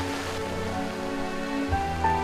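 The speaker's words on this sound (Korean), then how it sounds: "수시로 굵은 비가 내리는 장마철." Heavy monsoon-season rain falls steadily for a couple of seconds, a dense, continuous wash of drops on outdoor surfaces with a couple of brief louder knocks near the end and no voices.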